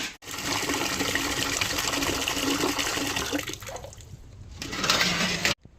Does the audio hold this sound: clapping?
no